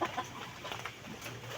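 Chickens cluck softly in a cockfighting-bird setup, several faint clucks scattered across a low, steady background.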